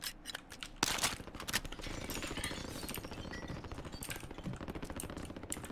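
Enemy gunfire in Call of Duty rattles in rapid, steady automatic bursts, a dense run of sharp clicking shots after a few isolated cracks, fairly quiet and continuous.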